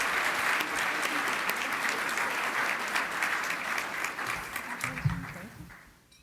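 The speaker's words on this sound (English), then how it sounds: "Let's give them a round of applause." A crowd gives a sustained round of applause for business honorees at a mayor's celebration, the dense clapping holding steady before fading away at the end.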